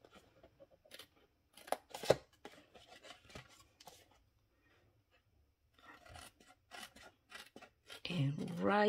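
Scissors snip through paper while a reinforced Stampin' Up box is being made, giving short rasping cuts in bursts, close and fairly quiet, with a rustle of handled paper near the end and a voice talking in between.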